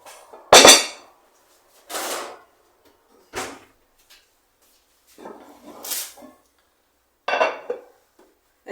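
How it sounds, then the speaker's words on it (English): A hot cast iron pot being taken out of an oven: a series of separate metallic clanks and scrapes, about six distinct knocks spaced over several seconds, close and fairly loud with quiet gaps between. "So now I'm getting my cast iron pot out of the oven."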